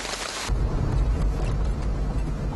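Steady heavy rain pours down at daybreak in a hilly valley after a long drought, a dense continuous hiss with low rumbling underneath that holds loud and even throughout.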